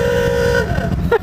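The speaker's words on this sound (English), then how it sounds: "It's such a classic horn, dude." A classic vehicle horn sounds a loud, sustained toot, then a short second beep near the end, heard up close on a ride with motorcycles around.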